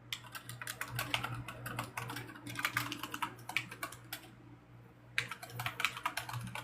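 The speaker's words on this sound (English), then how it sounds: "I hear you typing, so I'm assuming you're searching something else" Rapid clicking of typing on a computer keyboard, bursts of close, crisp keystrokes with a short pause before typing resumes, over a low steady hum.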